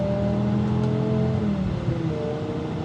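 BMW M5 with V10 engine under way, the engine and exhaust holding a steady droning tone heard from inside the car, with the pitch easing down and settling midway as if shifting or lifting off.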